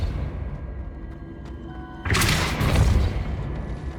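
A Depulso spell is cast in Hogwarts Legacy, landing as one sudden, loud booming thud that rolls on as a rumbling wash over a quiet game background.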